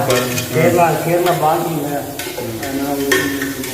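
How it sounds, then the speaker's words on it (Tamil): Onions sizzle and crackle steadily in hot oil while a utensil stirs and scrapes the pan, close up, with faint voices underneath, while chicken biryani is being made. "ஆக்சுவலி இது வெங்காயம் தாளிக்கிறாங்க"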